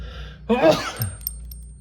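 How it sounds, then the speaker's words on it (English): A single short sneeze bursts out over a quiet background hum, followed by a softer breathy exhale. "Excuse me, I must sneeze."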